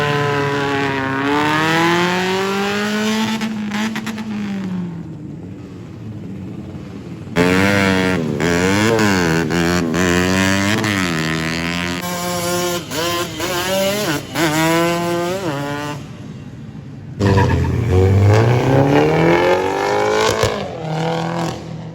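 Drag race cars and bikes at the Aceh drag championship tearing off in successive runs, loud rising engine howls with gear changes and fading passes, heard without talk.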